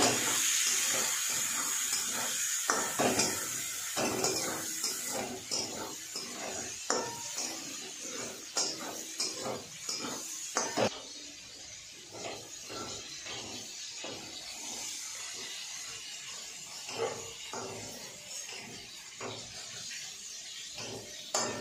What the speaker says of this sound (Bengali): আগে শুটকি মাছটাকে ভেজে নিচ্ছে। নুন হলুদ দিয়ে আগে ভেজে নিচ্ছে।